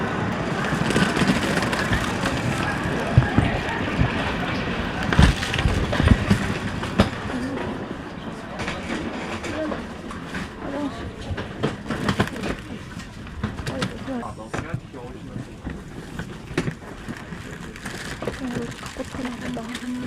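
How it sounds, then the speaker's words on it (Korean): Train to Chengdu at a station, with a steady rumble of rail cars and clacking, pigeons cooing nearby and people talking in the background. "제가 탈 기차입니다."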